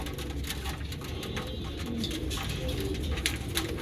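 Pigeons cooing softly and repeatedly at close range, their low murmuring calls overlapping over a steady background hum.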